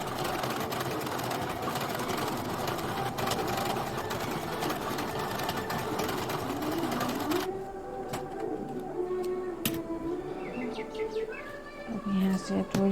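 A sewing machine stitches blouse fabric in a rapid, steady whirring run that stops midway, followed by softer mechanical clicks, with birds chirping faintly in the background.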